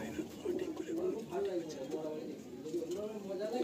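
A male Madrasi pigeon coos in repeated soft, throaty rolls while being handled up close, and someone talks over the bird.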